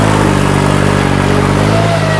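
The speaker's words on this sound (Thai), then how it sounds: "รถ รถไถนะครับ" Farm tractor engine running loud and close, a steady low chugging drone with no talking.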